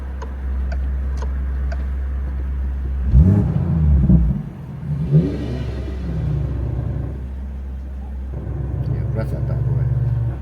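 A Morgan car engine rumbles steadily at a Brands Hatch breakfast meeting, swelling into a couple of short revs midway before settling back to idle, with people talking nearby.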